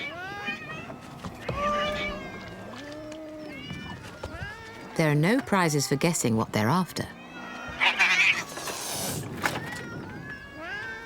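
A group of harbour cats mew and caterwaul around a fisherman coming back to the harbour, repeated loud drawn-out meows close to the microphone, mixed with a narrator's voice.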